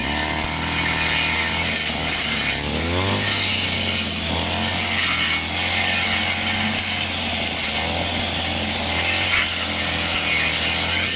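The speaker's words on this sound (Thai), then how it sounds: "มันมีเสียงเครื่อง ตัดหญ้าเข้ามานะครับ" A loud brush cutter engine runs continuously at about 70% throttle with a high whining buzz, its pitch shifting briefly as it revs, close by.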